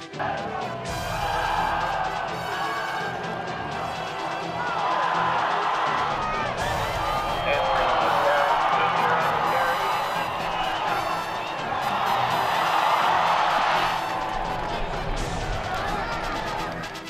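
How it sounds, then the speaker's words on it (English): A high school football crowd under the lights roars, hoots and hollers during a Columbus touchdown run, a loud sustained wall of cheering that swells in waves, with the din of many voices throughout. "it was this run that had the crowd hooting and hollering"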